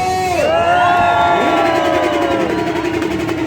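A crowd at a motorcycle meet cheers and whoops loudly and continuously, voices rising in sustained shouts, with a faint engine drone beneath.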